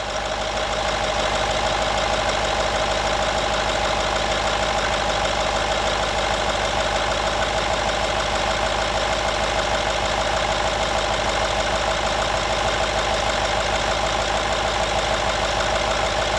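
A car engine idles steadily just after being started during a home battery test, a loud, even, continuous mechanical drone close by with no break.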